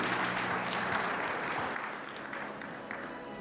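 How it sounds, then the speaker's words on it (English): Applause from an audience at an anniversary speech event in India, a dense steady clapping that holds for a few seconds and then thins slightly toward the end, with no voices over it. "Please give him a round of applause"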